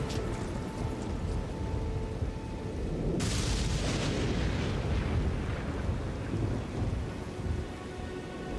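A thunderstorm effect tied to the Perfumer's Essence of Lightning item in Elden Ring: steady heavy rain-like hiss with a sudden thunderous crack swelling partway through, then rumbling on under the downpour, with no voices.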